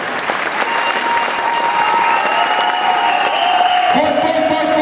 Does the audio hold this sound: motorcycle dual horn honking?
no